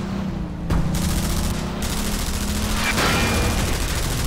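Constant loud gunfire from the video game Frontlines: Fuel of War, a dense, unbroken barrage of rapid shots layered with heavy rumbling and booms, with no gaps throughout.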